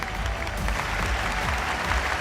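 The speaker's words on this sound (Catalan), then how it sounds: "Tot el públic, cavallers, tot el públic en peu aplaudint-li." An audience on its feet gives a standing ovation, a loud, dense wash of many hands clapping continuously, close and unbroken, with no voices standing out.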